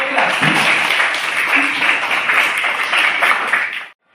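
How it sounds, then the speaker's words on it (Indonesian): Applause for a student group in a classroom, a steady wash of clapping hands with some voices mixed in, holding for about four seconds before cutting off abruptly. "Tepuk tangan untuk kelompok 3"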